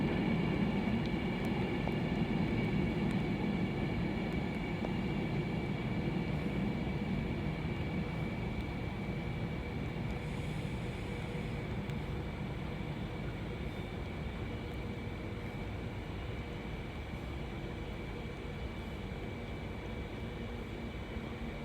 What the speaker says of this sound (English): the 12:28 Avanti West Coast service from Manchester Piccadilly to London Euston, being worked by a class 390 Pendolino